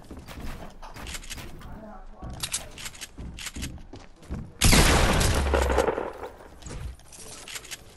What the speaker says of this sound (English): You just shot him with nothing in your hand.